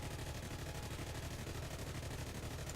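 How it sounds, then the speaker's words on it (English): Hispano cannons on a British fighter in War Thunder, firing a dense, continuous stream of rapid shots that stays loud and steady for the whole stretch, heard alone. "Let's hear these Espadas roar."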